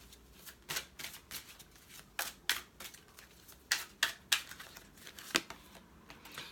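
Oracle cards from an Ascended Master deck are shuffled and drawn, a series of crisp, close flicks and snaps of card stock at uneven intervals, with quiet pauses between.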